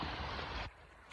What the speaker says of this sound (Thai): เพื่อนๆฟังเสียงคลื่นครับ